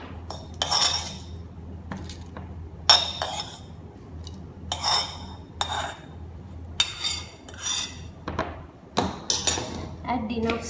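Spices and ingredients for Sri Lankan pol sambol being tipped and scraped into a grinder jar, several sharp clinking, clattering bursts of spoon against container spread across the clip, fairly close, with quiet gaps between.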